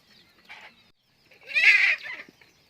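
Domestic chickens cluck nearby in two bursts, a short soft call followed by a louder, longer squawking cluck, with quiet gaps between.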